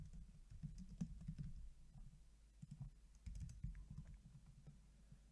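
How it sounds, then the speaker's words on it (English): Quiet computer keyboard typing while filling in address fields on a screen, soft irregular clicks in short bursts with pauses, close and faint. "typing out the information I want within these fields."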